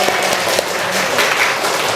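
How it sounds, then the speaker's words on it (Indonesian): Class of students claps together in a loud, close burst of applause during a lesson, dense and steady for a couple of seconds. "Tepuk tangan buat semuanya."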